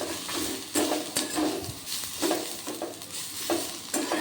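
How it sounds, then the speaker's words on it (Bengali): Whole white sesame seeds are stirred in a frying pan for a jackfruit seed mash, a close, continuous sizzle broken by repeated scraping strokes of the spatula at a steady pace. "এবার এর মধ্যে কিছুটা পরিমাণ গোটা সাদা তিল দিয়ে দিলাম দিয়ে হালকা করে এটাকেও 30 সেকেন্ড মতো নাড়তে হবে"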